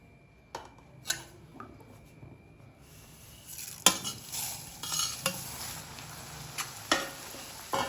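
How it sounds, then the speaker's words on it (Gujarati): Thin white poha (flattened rice) frying in hot oil, a soft steady sizzle with intermittent stirring clinks and scrapes of a utensil against the pan, growing busier midway; no talking. "હવે તળી લઈશું આપણે ઝીણા પૌવા આવે છે વ્હાઈટ કલરના, એને મસ્ત તળી લઈશું"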